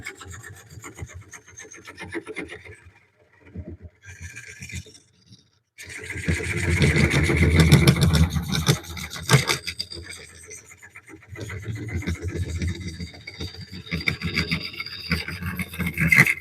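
A lathe tool cuts a walnut bowl during woodturning, a harsh continuous rasping scrape that starts after a few quieter, broken touches and then grinds on loudly with steady variation.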